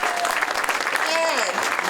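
A brief, dense patter of outdoor crowd applause at a Don Knotts statue unveiling in Morgantown, West Virginia, holds steady for about two seconds, with a short whistle and a few voices mixed in.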